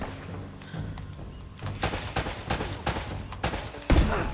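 Gunfire in the video game Uncharted: Drake's Fortune, a run of loud sharp shots and bursts at fairly close range over a low rumbling game background, with the heaviest blast near the end.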